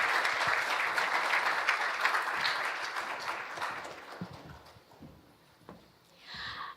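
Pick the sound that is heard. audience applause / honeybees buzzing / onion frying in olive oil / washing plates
audience applause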